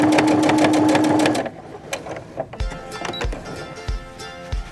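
A sewing machine runs a top stitching seam in a quick, loud, even burst, then falls quiet into a few soft clicks and light handling knocks.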